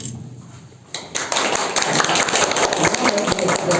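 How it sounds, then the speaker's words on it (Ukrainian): A small group claps for a child who has just recited a poem at a children's drawing exhibition in a village. The clapping starts after a short pause and stays steady and dense until the end. "Тебе оплески."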